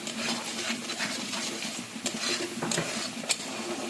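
A spoon scrapes and clinks against a cooking pan as spiced food is stirred over a low sizzle, with irregular metallic knocks and rustling, close by and without speech.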